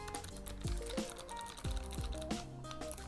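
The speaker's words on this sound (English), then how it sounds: "Are those blue switches? Guys, I think this is a mechanical keyboard." Keys clatter in quick, uneven bursts on a wireless mechanical keyboard with blue switches, a close, clicky typing rhythm heard alone.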